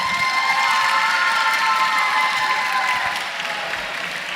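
A crowd at a live evening show in Ollolai, Sardinia, claps and cheers loudly and steadily throughout as guests are called onto the stage, a dense, sustained ovation with scattered shouts.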